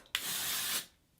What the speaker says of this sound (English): this is the dry texture spray from Moroccanoil